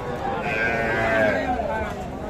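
A bull calf at a cattle market lets out a single drawn-out moo, loud and close, over a busy background of crowd noise.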